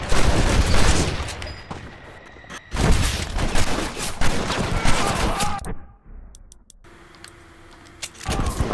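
Gunfire in the western game Red Dead Redemption, a burst of loud, dense shots and clatter that drops away abruptly near the middle, then a quieter stretch with a few sharp cracks and a faint tone near the end.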